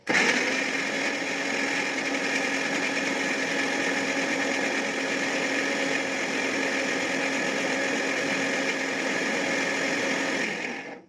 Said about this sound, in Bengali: তবু ভয় করে মিক্সি চালাতে চলো চালিয়ে দিতে হবে